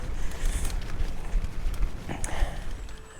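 Horse hooves clip-clop steadily on hard ground at a walking pace, close by, with faint outdoor noise and no voices.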